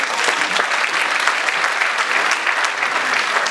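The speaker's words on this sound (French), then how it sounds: "On peut l'applaudir pour ça aussi." A crowd applauds a celebrity lookalike performer at a Téléthon charity show in Peyrestortes, with loud, dense, sustained clapping from many hands that stays constant with no one speaking.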